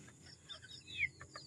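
Bantam chickens cluck in a small backyard, a few soft clucks and a brief higher squawk heard fairly close over faint background noise.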